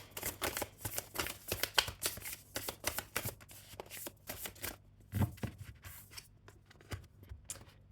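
Oracle cards shuffled and drawn by hand, a steady close stream of quick papery riffles, flicks and taps that thins out toward the end, with no voice over it.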